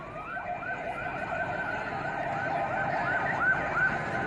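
A wailing police siren sweeps up and down repeatedly, fairly distant, over steady traffic and street noise during a terrorist attack at the Karachi stock exchange.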